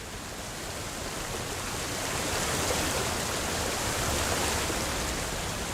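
Waterfall in the Mass Effect video game, a loud continuous broadband roar of rushing water that holds steady and swells slightly, with no talk over it.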